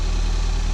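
Ford Fiesta ST engine idling after a crash, a loud, even, close rumble with a fast regular pulse.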